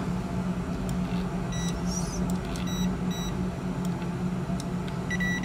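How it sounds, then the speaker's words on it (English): Several short, high electronic beeps from a qPCR lab instrument sound in pairs over a steady low hum of machinery, fairly faint against the constant background drone. "when you hear the double beep is ready to go"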